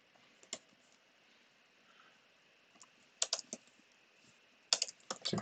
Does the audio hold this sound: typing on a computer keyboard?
yes